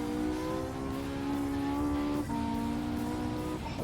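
A Porsche 918 Spyder in the racing game Gran Turismo 7 drones at steady high revs, its engine tones shifting as it changes gear twice. The sound is loud and continuous, with no voices.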